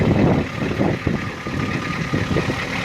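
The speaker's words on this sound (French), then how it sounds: "Donc là il est en route bien évidemment, si vous entendez le moteur." A 1987 Ford F250 XLT Lariat with a 6.9 V8 diesel idles nearby, a steady low rumble with rough, uneven knocking pulses running continuously throughout.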